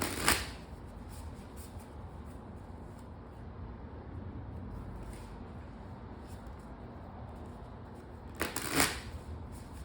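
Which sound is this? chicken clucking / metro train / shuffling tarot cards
shuffling tarot cards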